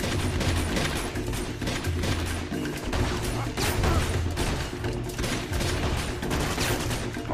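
Gunfire in the video game Uncharted 2, with repeated bursts of automatic weapon shots and impacts crackling densely throughout, loud and close in a chaotic firefight.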